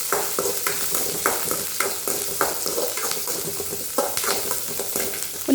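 Onions sauté in a pan as a spatula stirs them in quick, regular strokes, each scrape rising over a close, constant sizzle, with no speech.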